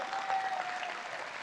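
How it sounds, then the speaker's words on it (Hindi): An indoor audience at a direct-selling motivational event claps in a dense, even patter of applause that holds at one level for a short moment. "जोरदार तालियां होनी चाहिए।"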